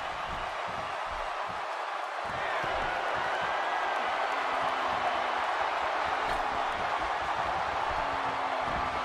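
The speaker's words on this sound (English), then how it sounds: "by the sound of this crowd, I think they're getting what they wanted" Crowd at a wrestling event, a sustained broad roar of cheering that swells after a couple of seconds and stays loud and distant, with scattered claps and thumps beneath.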